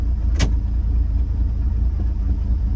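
A car engine with a carburetor idles roughly on a cold morning, a steady low rumble close by with a brief sharp click near the start.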